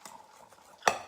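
Keto waffle batter gets stirred in a bowl: faint soft scraping, then one sharp clink of a utensil against the bowl.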